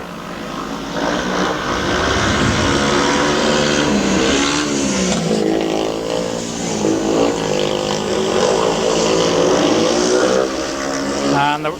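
Speedway motorcycles roar through a lap at a 1999 Monarchs versus Workington meeting, a loud continuous engine drone with shifting pitch that stays steady for the whole stretch and carries no talk over it.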